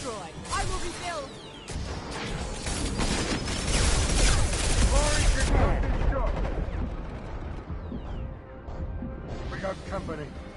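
Heavy sci-fi gunfire in a Mass Effect battle against Krogan, dense bursts and blasts layered over one another, loud and close, with shouted voices mixed in.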